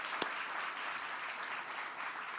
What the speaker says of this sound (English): So let's have a round of applause for the two of them.